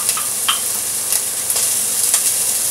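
Lardons and onion frying in a pan with no added fat, a steady close sizzle of hot grease with occasional stirring scrapes, and no talking.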